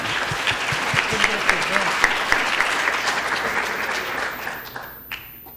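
Audience applause at an innovation challenge event as a group is thanked, a thick burst of clapping with some individually sharp claps standing out, tapering off over the final second.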